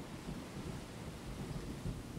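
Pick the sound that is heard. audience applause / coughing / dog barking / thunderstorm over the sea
thunderstorm over the sea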